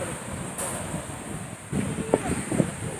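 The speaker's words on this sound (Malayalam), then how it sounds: "നല്ല കാറ്റടിക്കുന്നുണ്ട്" Strong sea wind blows across a pier at Thalassery on the coast, buffeting the microphone as a steady broadband rush, with a few faint, brief voices and movements rising toward the end.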